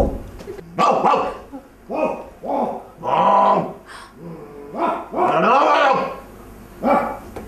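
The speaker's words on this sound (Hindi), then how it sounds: "ये क्या भौंकियां मार रहे, इसकी वजह से मेरी फैमिली डर रही है।" A dog barks loudly and close, a string of drawn-out, throaty barks with brief growling pauses between them.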